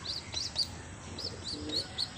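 A baby pigeon gives faint, repeated high chirping calls, close by and alone with no talk.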